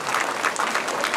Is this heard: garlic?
no